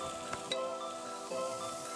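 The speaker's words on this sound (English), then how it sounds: "Add your slices of meat and then cook for a couple minutes on each side until browned like this on both sides." Gyro meat slices fry in a pan with a soft, continuous sizzle, broken by a few sharp pops and crackles near the start, quiet and without speech.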